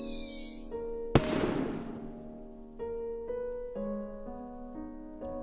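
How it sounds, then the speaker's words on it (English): In the video game Firework, fireworks at a funeral crack once sharply, a single near burst with a fizzing tail, set against quiet tonal music. "According to the custom here, there will be fireworks at the funeral."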